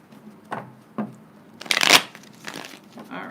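Tarot cards being shuffled up close: a few soft taps and slides, then one loud fluttering riffle, followed by quieter shuffling.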